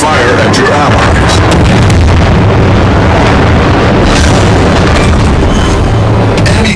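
Heavy booms and explosion bursts from a naval battle in World of Warships as an enemy cruiser is destroyed, loud and continuous with layered blasts and rumbling gunfire throughout.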